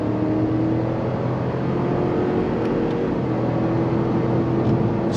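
2023 GMC Yukon Denali Ultimate V8 under throttle, a steady, moderately loud engine drone with road and wind noise heard from inside the cabin, with no sharp shifts.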